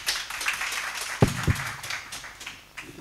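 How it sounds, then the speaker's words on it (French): Audience applause at a literary gathering, a light scattered patter of a modest crowd clapping with a couple of sharp close claps, fading toward the end. "Merci d'applaudir"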